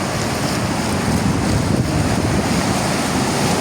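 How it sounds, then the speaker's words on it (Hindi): A swollen, flooded river surges over and against a bridge, a heavy continuous roar of rushing water that stays loud and steady throughout, close by, with wind buffeting the microphone and no talking. "पुल के ऊपर से भी पानी जा रहा है,"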